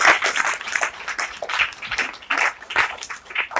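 An audience at a devotional spiritual gathering claps in loud, pulsing bursts, with the clapping rising and falling in rhythmic waves from close by.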